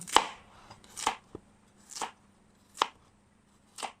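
Five sharp knife chops through daikon radish on a cutting board, spaced about a second apart, close and crisp with a faint hum between strikes.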